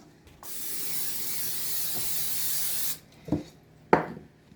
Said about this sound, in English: You're going to spray the inside of your bowl.